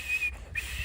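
A short, thin whistle sounds close and fairly faint, breaking off briefly midway and then resuming, with no talking over it.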